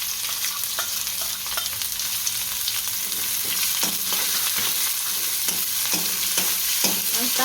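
Onions and garlic sizzle in hot oil in a home kitchen pan while making poha and suji breakfast, giving a loud, steady frying hiss with occasional stirring scrapes and crackles and no talking.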